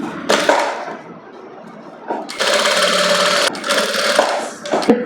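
A sewing machine stitches the lining of a princess-cut blouse in short, loud, close bursts of rapid whirring, separated by brief pauses.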